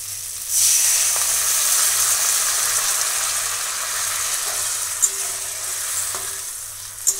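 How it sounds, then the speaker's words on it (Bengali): Fried tomato masala for a Bengali egg dhoka curry sizzles loudly after hot water is poured in, a steady hiss with a couple of sharp pops near the end, no voices. "ভালো করে কষিয়ে নেওয়া হয়ে গেছে, এতে এবার আমি গরম জল দেব।"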